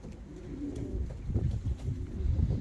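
Bukhara pigeons coo in a coop, soft low rolling calls repeating close by at moderate volume, overlapping one another with no talk.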